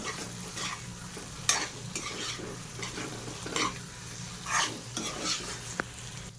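Veg manchurian stir-frying in a pan, a continuous sizzle broken by repeated scraping strokes and occasional sharp utensil taps against the metal, close and moderately loud, no talking.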